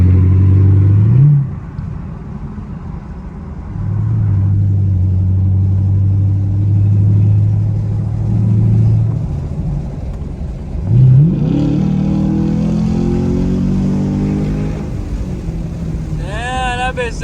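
A Chevrolet Camaro SS accelerating hard on the highway: deep engine rumble swelling in loud pulls with rising revs and gear shifts, heard from inside the car, with people talking over it.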